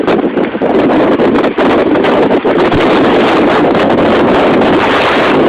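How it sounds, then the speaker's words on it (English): Strong tornado wind roaring during the April 2011 storm in Phil Campbell, Alabama, a loud continuous rush buffeting the microphone with no break. "Listen to that wind in there."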